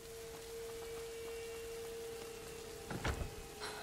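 Steady rain hisses across the whole stretch in a moody scene from the video game A Plague Tale, with a faint tonal hum beneath and a couple of brief louder thumps or rumbles near the end.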